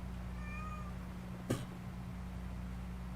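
A pet cat on a farm homestead gives a brief, faint meow, heard once against a steady low hum with one soft knock partway through.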